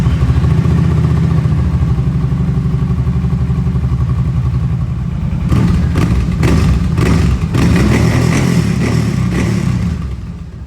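A Kawasaki Brute Force 750 ATV engine idles steadily with a low mid-pitched drone, then picks up a rough, clattering, uneven running sound for several seconds before tapering off.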